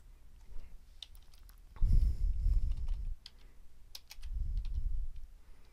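Light clicking of keys as a number is typed on a computer keyboard, a few scattered quiet taps against a low background hum.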